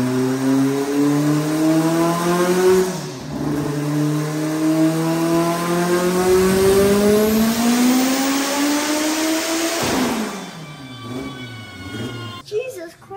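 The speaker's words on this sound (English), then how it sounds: "I'm gonna see if I could drop a dyno clip in here." Engine of a front-wheel-drive Honda Civic revs hard on a dyno, its pitch climbing steadily through a long, loud pull before it drops off sharply and settles into idle with some rattling, close up.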